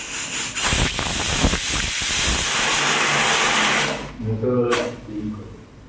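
A pressure cooker cooking chickpeas releases a loud, sustained hiss of steam for about four seconds, then stops, followed by a short burst and clattering sounds nearby.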